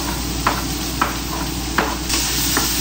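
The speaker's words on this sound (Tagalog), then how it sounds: "Tapos ilagay na natin itong bawang and sibuyas." Garlic and onion sauté in a pan, a steady close sizzle marked by a few sharp stirring scrapes about every half second, with no talking.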